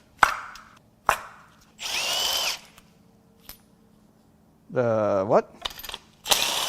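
Tools work on a GMC Yukon 6.0L V8 engine as spark plugs are pulled: sharp metallic clicks and clanks, short bursts of whirring tool noise, with someone speaking briefly in between.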